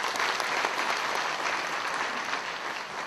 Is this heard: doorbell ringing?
no